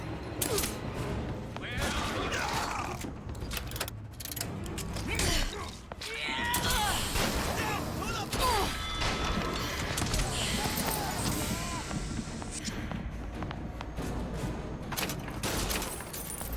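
Gunfire aimed at a woman in the video game Bioshock Infinite, with dense bursts of shots and clattering mechanical action scattered through a busy, loud game mix, while voices talk over much of it.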